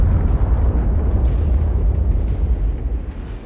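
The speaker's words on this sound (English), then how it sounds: "The tank explodes." A 45-ton tank blowing up in combat produces a loud, continuous, deep roaring rumble with scattered crackles throughout. No one speaks.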